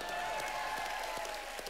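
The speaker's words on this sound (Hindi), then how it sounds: "आफ्ताब शिवदसानी के लिए जोरदार तालियां हो जाएं।" Studio audience applauding on a Hindi TV comedy show, a dense steady patter of many hands clapping at once, fairly close and continuous without talk over it.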